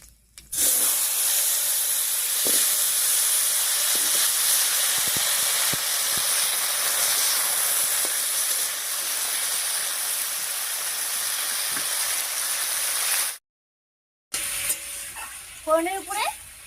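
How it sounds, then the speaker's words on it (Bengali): Cut papaya and potato hit hot tempering oil in a Bengali village kitchen, giving a loud, steady sizzling hiss that runs close and unbroken for about thirteen seconds before a short gap and some faint clattering. "এবারে কেটে রাখা পেঁপে আর আলুটা দিয়ে দিচ্ছি।"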